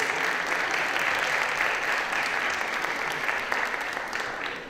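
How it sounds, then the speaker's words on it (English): A theatre audience at a stage show of Papalan, The Myth of Tamparuli applauds steadily, a full, sustained patter of many hands that fades slightly near the end. "another warm round of applause for that wonderful performance"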